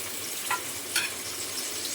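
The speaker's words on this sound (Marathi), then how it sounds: "तर दुसरीला पण फोडणी देते लगेच." Mustard seeds, cumin and crushed garlic hiss in hot oil as tempering for a vegetable curry, a steady close sizzle with two brief crackling spurts and no talking.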